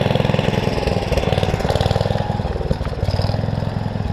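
A throttled-up engine drives a Fieldking hammermill with a loud, close, steady chugging drone that surges slightly in pulses and runs throughout with no talk.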